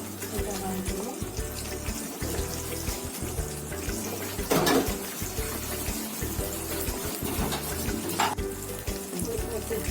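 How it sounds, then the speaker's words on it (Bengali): Beaten egg mixed with onion and green chili frying in a wok over medium heat, a continuous crackling sizzle with a few louder bursts. "মিডিয়াম হিটে এটা ভাজবো।"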